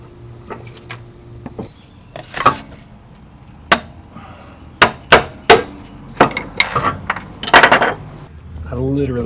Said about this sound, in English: Just gonna hammer the little tab sticking up on the edge of this ring here and with a screwdriver